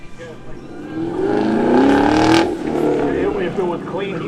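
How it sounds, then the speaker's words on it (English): A white Chevrolet Camaro runs an autocross course, its engine revving hard and swelling to a peak before dropping away, loud and near, with people talking over the noise. "Phil Hoff back out on the track on that white Camaro"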